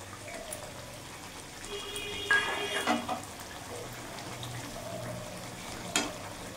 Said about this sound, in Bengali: ঝোলটা ফুটে গেছে, এবার ভেজে রাখা মাছগুলো দিয়ে দেবো।